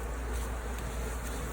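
Honey bees hum in a beehive, a steady, dense buzzing close by, brief and continuous with no talk.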